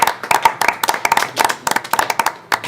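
A small group of dinner guests applauds as the first dish is served at a dinner party in Chambéry, with close, crisp, irregular claps from a few people throughout.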